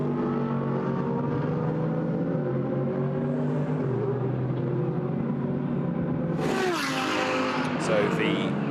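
GT race cars at the Paul Ricard circuit in a Blancpain GT Sports Club race, engines droning steadily in the distance under continuous commentary, with a sharper nearby rise in engine noise late on.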